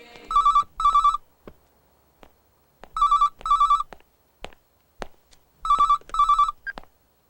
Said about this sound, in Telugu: ఫోన్ తీసుకో, ఫోన్ తీసుకో.